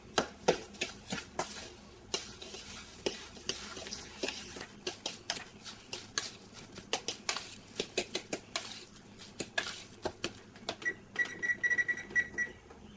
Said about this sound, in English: Then we mix it up.